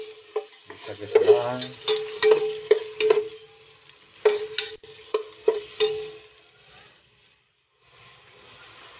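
Onions go into a frying pan and are stirred, giving a run of scraping, clattering spatula strokes over a soft sizzle for about six seconds before things go quiet, with a brief spoken word early on.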